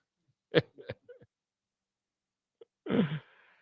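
A single sharp sneeze burst, fairly close, following a few faint clicks and breathy sounds, then quiet.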